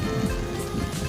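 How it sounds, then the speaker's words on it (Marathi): Heavy monsoon rain at a valley waterfall near Belagavi makes a steady, dense hiss of falling water, close and continuous with no talk. "आणि आज पाऊस खूप आहे"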